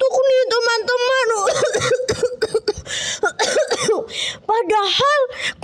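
A character named Kriwil coughs repeatedly in harsh, close bursts and clears the throat, with a voice performing the coughs amid speech-like sounds throughout.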